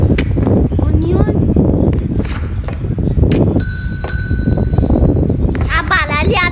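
A bell rings again and again during a Night 67 game, bright metallic dings rising over near-constant talk and game noise, most clearly in the second half.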